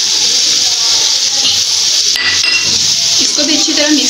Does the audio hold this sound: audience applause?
no